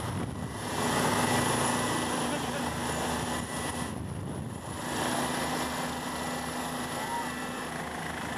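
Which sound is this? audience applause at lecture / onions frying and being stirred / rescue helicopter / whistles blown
rescue helicopter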